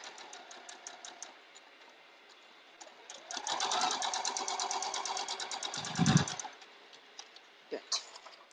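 A sewing machine chain-pieces half-square triangles for a quilt block in short bursts of rapid stitching, then a sustained faster run mid-clip. The sound is close and moderately loud, with a voice speaking around it.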